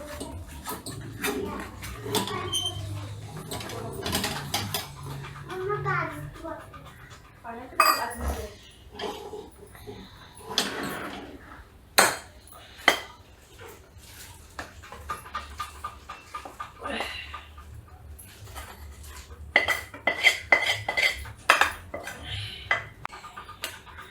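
Hot kandi pedha mixture scraped from a pan onto a steel plate, with scattered metallic clinks and scrapes of a spoon against steel. Someone talks intermittently and a dog pants and whimpers nearby.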